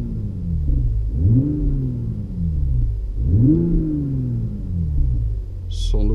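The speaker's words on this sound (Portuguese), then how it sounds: "vamos dar uma acelerada aqui" Sports car engine, a 2020 BMW Z4 or Toyota Supra, revving twice in deep rising-and-falling surges up close, with a short sharp click at the end.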